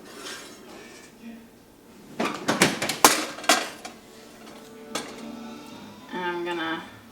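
A preheated cast iron skillet with butter comes out of an oven, with a cluster of sharp metallic clanks and knocks in the middle, followed by softer rattles and a brief voice near the end.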